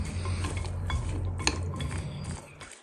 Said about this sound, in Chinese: 我们先搅拌均匀，